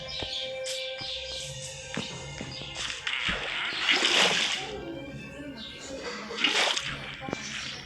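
Minecraft water splashes and sloshes in bursts, with dripping and light chirping in the background; fairly quiet overall.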